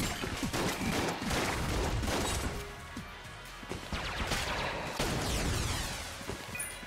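Rapid bursts of many bullets firing in the video game Enter the Gungeon, a dense, continuous clatter of shots and impacts layered over game music, with no talking.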